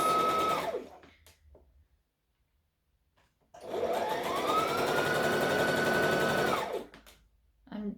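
A sewing machine stitches down a dress seam, starting with a short burst that winds down, then after a pause running steadily for about three seconds, loud and close, before stopping.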